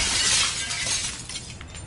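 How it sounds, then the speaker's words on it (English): Window glass smashing in the zombie survival game Project Zomboid: a loud, bright burst of shattering that tails off into scattered tinkling shards over about two seconds, with no talk. "So smash the window."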